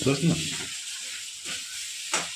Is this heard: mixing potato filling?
yes